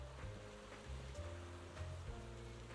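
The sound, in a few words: ocean waves on a beach, from video game Zenless Zone Zero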